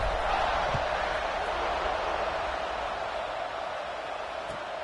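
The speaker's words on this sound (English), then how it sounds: "this crowd is buzzing after that last score" In College Football 26, an LSU game's stadium crowd buzzes after a score as a steady, broad roar that holds evenly and fades only slightly over a few seconds.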